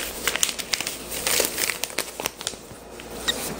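Paper manual for a Coby DP356 digital photo frame being unfolded and handled, giving a close run of crisp crinkles and rustles with sharp crackling bursts throughout.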